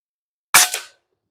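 A single air rifle shot from an AGI Falcon firing a RifleThunder 13.43 grain pellet: one sharp, close crack with a short ringing tail, surrounded by silence.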